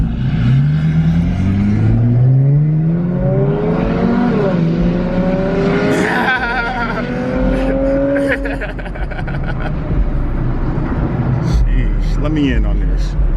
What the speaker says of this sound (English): He getting that turbo spooled up, bro. He getting that turbo ready, bruh.